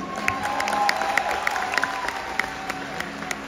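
At a live concert in Adelaide, Australia, an audience claps and cheers in a dense, steady wash of applause, with a few distant shouts over it.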